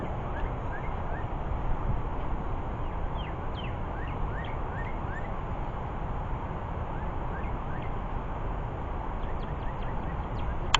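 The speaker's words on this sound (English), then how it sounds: "Bird up in the tree here somewhere." Faint bird chirps come from a tree above in Lake Tawakoni State Park, Texas, scattered short calls over a steady outdoor background hiss.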